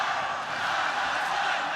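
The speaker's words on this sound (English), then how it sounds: "the crowd is starting to chant" A large stadium crowd at an MMA fight at Stadium Putra keeps up a steady, dense roar of chanting and noise that holds level throughout without a break.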